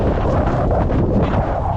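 Wind gusting steadily outdoors in Canada, a broad, loud rumble buffeting the microphone throughout with no clear pauses.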